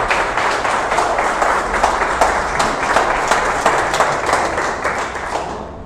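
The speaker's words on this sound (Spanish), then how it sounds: "Dale un aplauso a Jesús." Sustained church congregation applause with dense, steady clapping throughout, fairly loud and continuous.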